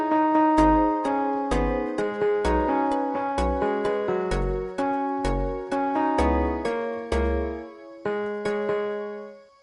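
Fortnite music blocks play the first half of a song's pre-chorus in a video game, as a steady run of bright, plucked synth notes over deep bass hits, loud and close, before the last note rings out.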